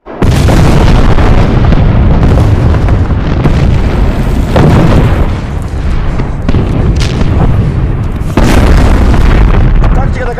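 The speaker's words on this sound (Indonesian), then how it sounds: "Tembakan artileri pun diluncurkan." Heavy artillery fire in a war film, with loud booming explosions and rumbling blasts overlapping continuously, a few sharper detonations standing out amid the dense battle noise.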